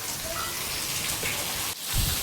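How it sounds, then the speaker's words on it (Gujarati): Heavy rain falls in a dense, constant wash of noise, steady and close throughout with a brief dip near the end. "જોરદાર વરસાદ પડે છે."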